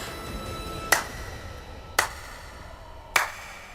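Three slow, separate hand claps, spaced about a second apart, in a quiet indoor room during a tense family conversation in a Hindi television drama.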